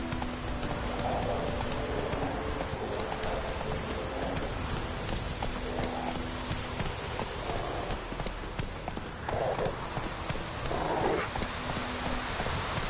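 Roach, a horse in The Witcher 3, gallops with steady, rapid clip-clop hoofbeats throughout, loud and close over a constant rushing wash of rain-like ambience.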